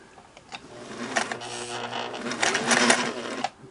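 A Singer Model 401A sewing machine runs a reversing stitch test with two needles and four threads, its close, steady motor hum and rapid mechanical needle clatter swelling and easing for a few seconds before stopping abruptly.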